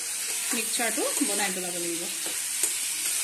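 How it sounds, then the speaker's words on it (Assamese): Spice masala fries and sizzles in a pan while it is stirred, a steady close hiss with scraping stirs, as someone speaks over it. "এতিয়া এয়া আমাৰ মছলাখিনি ধুনীয়াকৈ ভজা হৈ গ'ল"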